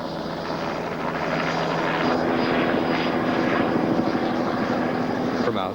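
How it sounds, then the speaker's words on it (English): A helicopter lands a camera team at a checkpoint on a mountain, its rotor chop and engine whine loud and continuous, building slightly as it nears, with a voice talking over it. "The chopper lands our camera team at a checkpoint on Mount Hassel"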